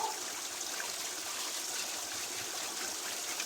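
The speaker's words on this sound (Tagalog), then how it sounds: "Ito na tubig dito." Water flows steadily in a stream, a constant bright rushing and trickling with no voices.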